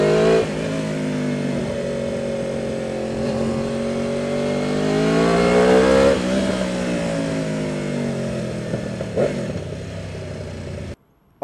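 An Aprilia RSV4 Factory motorcycle accelerating hard, its engine note rising loud and close in a sustained, harmonically rich wail, dipping briefly at a gear change before climbing again, then cutting off abruptly.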